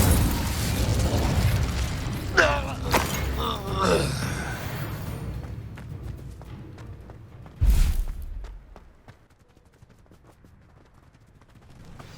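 An Incendio fire spell is cast in the Hogwarts Legacy video game, with a loud whooshing burst and magical shimmer amid busy game effects, followed by a sharp blast and a quieter fading tail.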